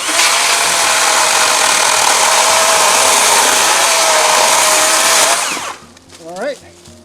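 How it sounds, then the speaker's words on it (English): A cordless power saw running on a DeWalt FlexVolt battery, cutting with a loud steady high whine for about five seconds before winding down, followed by brief faint sounds. "I'm cutting these a little bit short here, just for convenience."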